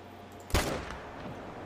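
A single sharp rifle shot fired at a moose in theHunter: Call of the Wild, a loud close crack followed by a brief rolling echo that fades into quiet ambient background.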